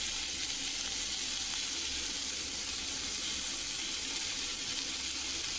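Chopped tomatoes fry in a pan for tomato chicken curry, a soft, even, continuous sizzle with a faint watery hiss and no distinct stirring strokes, fairly quiet and without voices.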